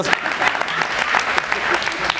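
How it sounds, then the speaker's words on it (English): An audience claps hands at a speaker's request after a business win, steady scattered applause throughout with some voices mixed in. "But I won please clap hands for me."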